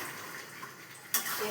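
Hot water poured into a pot of chicken curry makes a steady, close splashing gush that briefly grows louder and brighter near the end.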